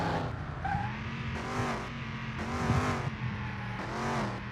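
In a car shop driving game, a car engine revs hard in repeated surges, its pitch climbing and then dropping as gears shift, with tire noise underneath. It stays loud and close throughout, with no talking.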